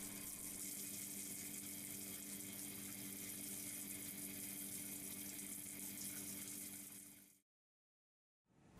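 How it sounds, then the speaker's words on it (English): A handheld water jet spraying both halves of a dental mould flask to wash away wax and residues, a steady loud hiss of rushing water that stops abruptly near the end. "This time we use the handheld water jet to spray both portions of the mould, removing all traces of wax and other residues."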